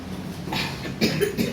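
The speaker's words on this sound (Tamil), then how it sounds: "இருமல் வந்துட்டே இருக்கு." A few short, close coughs in quick succession, fairly soft, over a quiet background.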